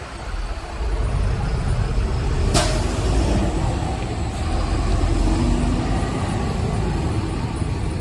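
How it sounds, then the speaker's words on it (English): City bus pulling away along a street in Chapala, Mexico, its engine rumbling loud and steady for several seconds amid traffic noise, with one sharp click partway through. "Now just one bus just left, and there's still 2 there."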